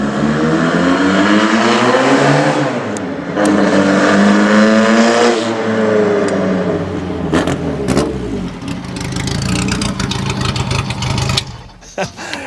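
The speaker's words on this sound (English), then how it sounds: "This is the T1, Gordon Murray's first racing car design that he raced in South Africa in the 1960s" A 1960s Gordon Murray T1 vintage racing car engine roars and revs as it drives past, rising and falling in pitch, loud and close, with crackling toward the end.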